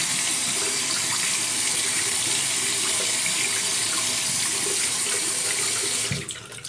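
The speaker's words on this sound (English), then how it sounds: "I'm going to wet this brush with some hot water." Hot water runs steadily from a bathroom tap as a shaving brush is wet under the stream, a loud, even rush of splashing that cuts off abruptly near the end.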